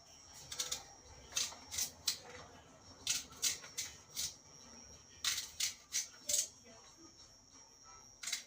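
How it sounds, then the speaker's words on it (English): A knife chops an onion on a board for Jamaican-style seasoned rice, giving sharp, crisp strikes in uneven bursts with short pauses between them. The sounds are close, with a faint background hum. "so I will cut up an onion"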